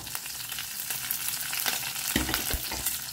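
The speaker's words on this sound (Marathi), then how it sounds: "सो आतां घालता हांव कढीपत्ता. सो आतां घालता एक 3 चिली घालता हांव कट करून." Curry leaves and cut chillies fry in hot oil with garlic and urad dal for an instant dosa, a steady, close, bright sizzle with stirring and a few louder bursts near the end, no voices.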